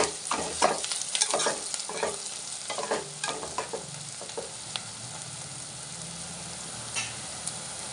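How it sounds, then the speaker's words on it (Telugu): Mutton curry with tender tamarind leaves frying in a pan, with repeated scraping stirs over a steady nearby sizzle. "వేగుతాయండి, వేయించుకుందాం."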